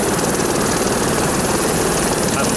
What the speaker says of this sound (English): So I'm about to go on my first ever helicopter trip.